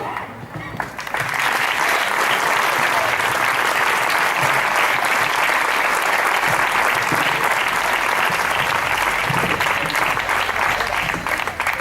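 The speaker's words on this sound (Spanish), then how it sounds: "De nuevo, pido un aplauso para nuestra rondalla." An audience at a patronal-festival performance in a casino hall gives loud, sustained applause for a rondalla, a dense continuous wash of clapping that swells after a second and holds steady to the end.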